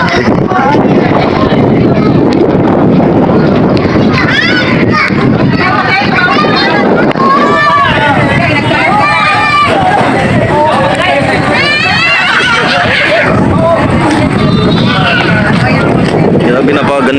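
Strong wind buffets the microphone at the Taal Volcano overlook in Tagaytay, a steady loud roar that runs throughout beneath a crowd's babble and nearby voices.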